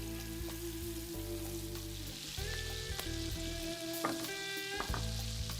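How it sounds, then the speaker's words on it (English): Lamb patties sizzle and spit in olive oil in a pan over fairly high heat, a steady close frying hiss with scattered pops and crackles and no voices. "fry these Zeppelin-shaped patties in olive oil over highish heat"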